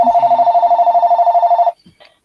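A landline telephone rings in a home during a live auction, one long steady electronic ring lasting under two seconds, loud and close, then cutting off abruptly and leaving brief faint room noises.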